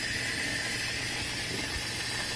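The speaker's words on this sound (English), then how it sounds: "Real live steam being lost out of one of these." Live steam escapes continuously from a steam trap, a steady, loud, broadband hiss that holds even and unbroken throughout, with no talk over it.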